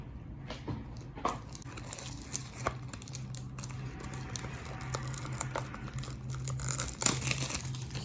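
Close, quiet crinkling and snipping of foil card packs being cut open with scissors, irregular rustles and small clicks at low level with no talk.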